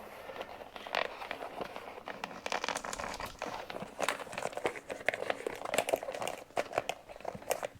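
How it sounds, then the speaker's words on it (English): Cheap thin plastic bags crinkle and rustle as they are pulled and tied tight. The crackling is continuous and fairly quiet at close range, with irregular louder scrunches throughout and no talking. "They're just a very cheap plastic bag."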